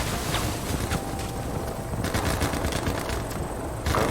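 Gunfire from the mobile shooter game Battlefield Mobile rattles in dense, continuous bursts under heavy wind-like noise, with a few sharper shots standing out over four seconds.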